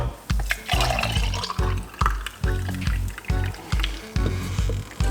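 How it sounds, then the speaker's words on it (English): Beetroot juice glugs and splashes in repeated short bursts, about ten pulses in a row, close up, as it is poured from a container into a cup. "just pour it out into another cup"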